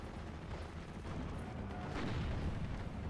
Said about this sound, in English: Oh wow, that artillery is just perfect.